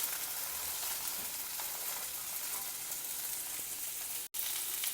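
Peeled, chopped carrot fries in a pan, giving a steady, dense sizzle that stays close and even throughout, broken only by a momentary dropout near the end; no one speaks.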